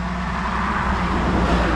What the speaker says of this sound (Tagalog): May dumadaan na sasakyan.